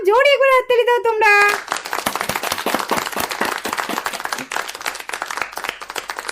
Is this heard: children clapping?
yes